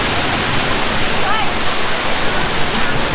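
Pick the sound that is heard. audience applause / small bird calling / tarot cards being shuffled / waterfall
waterfall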